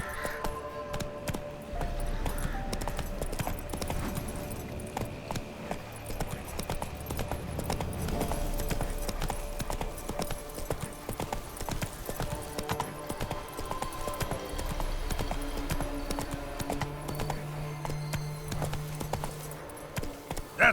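Horse Roach in The Witcher 3: Wild Hunt, hooves clip-clopping in a steady walking rhythm over ambient game sound, with a brief neigh.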